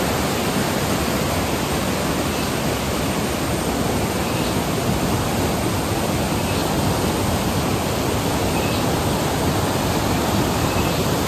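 A river flows beside the Horanadu Annapoorneshwari temple in Karnataka, a loud, steady, dense rush of water that fills the whole stretch evenly with no pauses and no voices.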